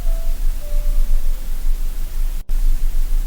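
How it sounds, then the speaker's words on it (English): Steady hissing static through a telephone receiver in a visual novel game, a constant crackling wash with faint tones drifting in and one brief dropout near the end. "Through the receiver, I can hear the crackle of static"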